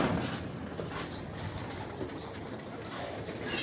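A pigeon coos softly in a low, murmuring burble, faint and somewhat distant beneath steady ambient noise.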